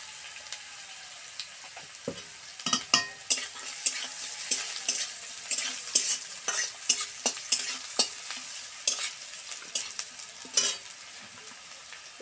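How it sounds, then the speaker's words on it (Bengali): Chopped onion stirred and fried in a pan, a steady sizzle broken by repeated scraping stirs and sharp clicks at an irregular rhythm, close and moderately loud with no talking. "নেড়ে চেড়ে এখন দিয়ে দিব পেঁয়াজ কুচি"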